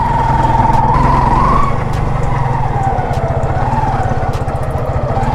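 A Suzuki Gixxer SF motorcycle, a handmade edition, pulls away with a loud, close engine note that rises through a short rev then settles into a steady throbbing pulse as it rides off, with no talk.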